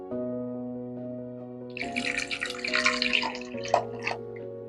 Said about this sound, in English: In a small pot, I'm going to place in the eggs, and then I'm just going to cover it with water.